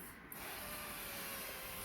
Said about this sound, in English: I'm going to spray it with my avocado spray.